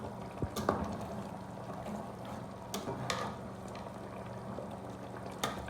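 A pot of soup with smoked fish and meat boiling, soft bubbling with scattered pops and clicks, faint and close with no voices.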